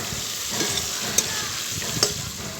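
Rohu fish frying in a pan at home, a steady soft oil sizzle with a few brief clicks and pops of stirring, close and alone with no talk.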